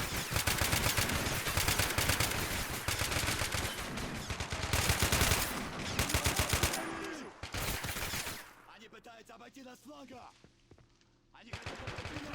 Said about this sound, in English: Strikers providing some covering fire.